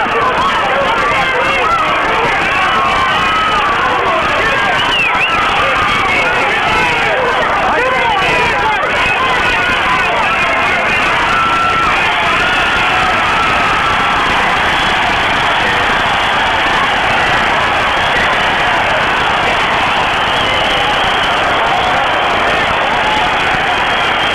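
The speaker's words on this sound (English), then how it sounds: "The crowd really rising to this, sense of great excitement and anticipation in the air" Loud boxing crowd roaring and cheering continuously at a fight, a dense wall of crowd noise with babble and talk mixed in throughout.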